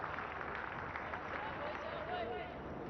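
Cricket crowd applauding AB de Villiers reaching 150 in a Test between Pakistan and South Africa, a steady, distant wash of clapping and crowd noise with commentary-like voices over it.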